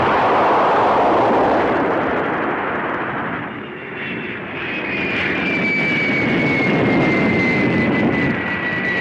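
An airplane flying in the 1965 film Gamera: The Great Monster: a loud, steady engine roar that dips briefly midway, then swells again with a rising whine as the aircraft passes.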